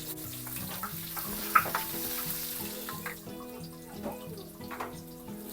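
Garlic and onion sautéing in a pan make a soft, steady sizzle with a few light stirring clinks, heard faintly under quiet background music.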